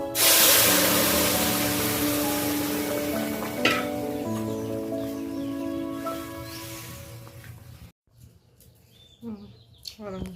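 A dal mixture is poured into hot oil spiced with bay leaf, dried chillies and mustard seeds for a summer shukto dal. It bursts into a loud, bright sizzle that slowly fades, and a voice speaks near the end.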